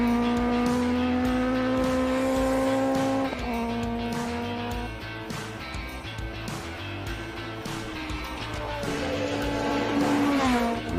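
A classic race car on a hillclimb course holds a loud, sustained engine note that shifts pitch as it accelerates, lifts off and brakes, with a brief tire squeal, heard up close with no talking.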